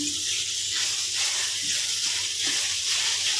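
Grated carrot frying in a pan for carrot halwa gives a steady, close hiss and sizzle that holds at an even level throughout, with no talk over it.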